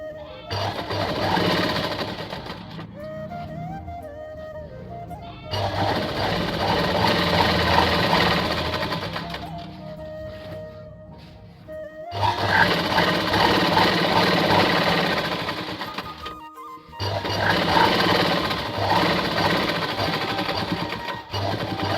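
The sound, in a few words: sewing machine stitching a lungi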